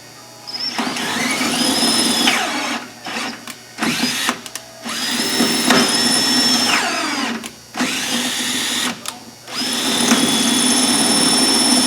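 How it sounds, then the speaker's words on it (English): A power drill whines in repeated bursts while drilling through a window, spinning up and stopping several times at close range, with short pauses between runs. "pick a hole that's relatively close to center and drill through"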